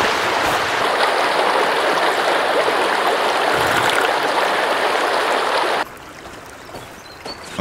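Flowing stream water in the survival game Sons of the Forest, a steady broadband rush close by that runs loud and unbroken, then drops sharply to a quieter wash near the end.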